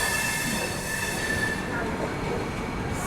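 The Swarn Jayanti Rajdhani express rolls along the tracks near Sabarmati, with a continuous rumbling roar and a sustained high wheel squeal, loud and steady throughout.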